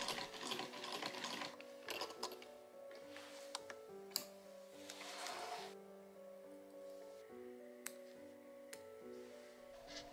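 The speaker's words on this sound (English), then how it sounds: "The side seams are quickly addressed on the sewing machine" A sewing machine stitches the side seams of an adjustable skirt, a steady mechanical whir with rapid needle ticking and brief pauses and restarts, close and moderately loud, with no voices.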